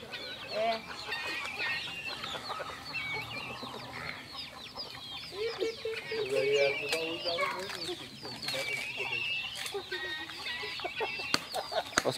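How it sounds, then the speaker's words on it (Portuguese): Chickens cluck and chicks cheep around a small rural farm in a busy, overlapping chorus, moderately near but fairly soft, with occasional voices talking in the background. "Pintainho lá, ó."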